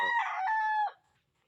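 A single rooster crows loud and close, a full drawn-out call that stops abruptly, with chickens in a backyard poultry pen and no talking.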